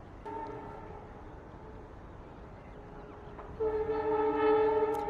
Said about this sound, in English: you can hear the sound of the railway station